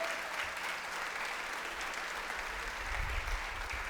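Church congregation applauding during a Spanish-language sermon, a continuous moderate clapping wash from many people in the hall, with a low rumble rising near the end.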